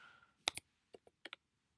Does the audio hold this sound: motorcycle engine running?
no